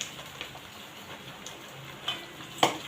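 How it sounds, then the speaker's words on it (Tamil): Fish curry masala with a jilebi fish head simmering in a pan, a soft steady bubbling with occasional faint pops and one sharper clink near the end, quiet and close. "இப்போ இது நல்லா கொஞ்சம் சதன்னு கொஞ்சம் கொதிச்சு வரட்டும்."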